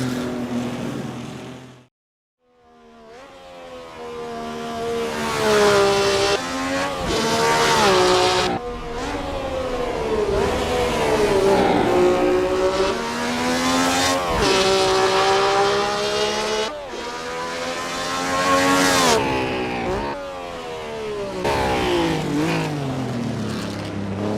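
A 1960s Formula 1 car on slick tires in the Assetto Corsa racing game, engine revving loud and close through rising gear changes, with a brief cut near the start and sustained flat-out acceleration afterward.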